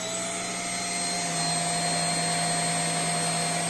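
A Jigoo S300 bed bug vacuum cleaner running steadily, a loud continuous motor whine with a high tonal hum that rises slightly after a second, with no voices.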